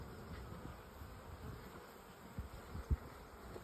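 Honeybees hum around an open, established hive in a faint, steady drone, broken by a few soft knocks and bumps.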